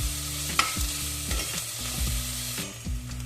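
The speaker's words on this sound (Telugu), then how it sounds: "ఆనియన్స్ వేగాయండి." Onions fry in a pan for a baby potato curry, a steady sizzle broken by several scraping stirs of a spoon against the pan, close and fairly loud with no voices.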